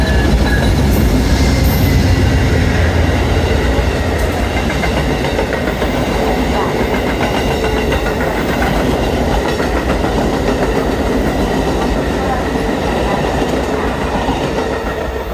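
A fast Amtrak train hauled by ALC-42 Charger heritage-unit locomotives passes close by: a loud, sustained roar with rhythmic wheel clatter and a faint metallic squeal over the whole stretch, no voices.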